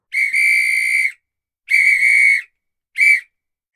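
A sharp, shrill whistle of the kind referees, coaches or traffic police use sounds three times, two long blasts followed by a short one, loud and close with silence between.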